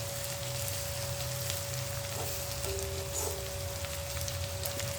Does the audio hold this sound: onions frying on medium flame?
yes